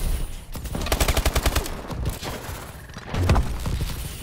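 Rapid automatic gunfire from Call of Duty: Advanced Warfare, a tight burst of evenly spaced shots followed by a pause and then another loud cluster of shots with heavy thumps.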